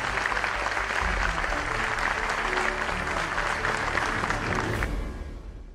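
An arena crowd at a Fenerbahçe Beko basketball event breaks into loud, continuous applause for Abdullah Oğuz, dense clapping and crowd roar holding strong before easing off toward the end.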